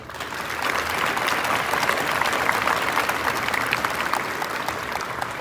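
A steady round of applause from an audience honoring mentors at a mentoring program event, dense, even clapping sustained throughout without a break.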